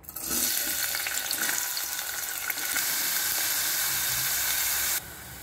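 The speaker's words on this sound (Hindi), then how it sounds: "बर्तन में हमने छः टेबलस्पून तेल गरम करने रखा है इसमें हम कटा हुआ प्याज डालेंगे" Chopped onion fries in six tablespoons of hot oil in a pot, making a steady, dense sizzle that holds at an even level for about five seconds and then drops suddenly to a quieter hiss.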